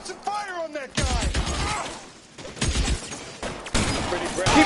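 Gunfire in the L.A. Noire video game, with dense fusillades of shots and crashing impacts in repeated bursts alongside shouted speech and game dialogue.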